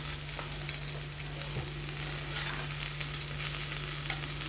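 Morisa greens cooking in a pan with just a little oil, a steady soft sizzle and crackle with faint stirring, no voices.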